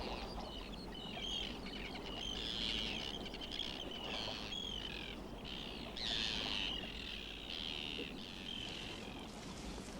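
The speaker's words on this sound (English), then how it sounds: "It may be the noisiest time for the seabirds" Seabirds calling on a northern coast at summer twilight, a faint, continuous chorus of shrill overlapping cries over soft steady background wash, with no talk.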